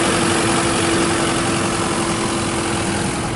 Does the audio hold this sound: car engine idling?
yes